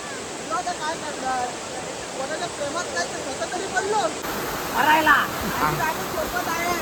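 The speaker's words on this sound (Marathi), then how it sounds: "आणखी एक धबधबा वाटतोय मला तिथे" A hidden village waterfall roars with a constant, full rush of falling water, loud and close, while voices murmur faintly over the steady wash.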